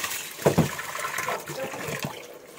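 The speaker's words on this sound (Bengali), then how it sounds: "চলুন কড়াটাতে আগে একটু জল নিয়ে নিই" Water splashes and sloshes into a small wok being washed out, a couple of close splashy bursts followed by softer trickling and swishing, fairly quiet.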